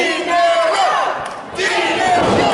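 A wrestling crowd at a Big Valley Wrestling show at Opportunity Village cheers and shouts loudly and continuously, with a short dip in volume midway before the roar swells again.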